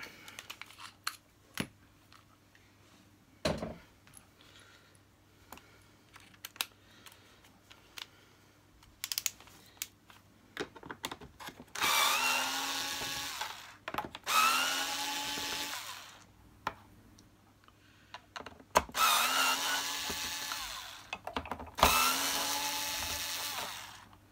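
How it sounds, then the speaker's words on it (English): An electric screwdriver undoes screws in four whirring motor bursts of about two seconds each, fairly loud and close, with quiet handling clicks between them and no talking. "let me get my electric screwdriver, otherwise this will take forever"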